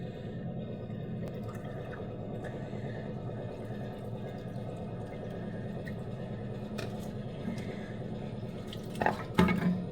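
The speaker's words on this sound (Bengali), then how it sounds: "সুন্দর করে ছোলাটাকে এখন আমি একটু ধুয়ে নিই" Chickpeas rinsed under a running kitchen tap, a steady stream of water in a sink with light dripping and a few louder splashes and knocks near the end.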